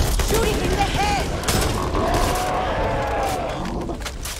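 Gunfire in the co-op zombie shooter Back 4 Blood, a continuous rattle of automatic shots and bursts with brief voice cries mixed in, loud and dense throughout.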